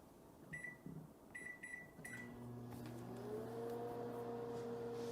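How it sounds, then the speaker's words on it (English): A microwave oven heating ramen noodles in a butter and beer mixture gives several short keypad beeps, then starts a steady humming whir that runs on continuously, close by. "Now we're gonna microwave the ramen noodles in this butter and beer mixture that we got going here."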